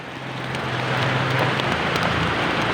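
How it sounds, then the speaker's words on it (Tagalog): Rain falls steadily during the rainy season in the Philippines, a continuous even hiss of drops that holds at the same level throughout, with no voices. "Sa Pilipinas, sa umuulan na sa Pilipinas."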